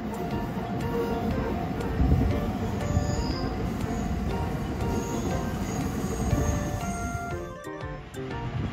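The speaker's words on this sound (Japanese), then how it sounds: "津田沼方面の列車が来たね" A Shin-Keisei Line train bound for Tsudanuma rolls in with a steady, loud rumble of wheels and carriages, faint metallic squeals above it, easing slightly near the end.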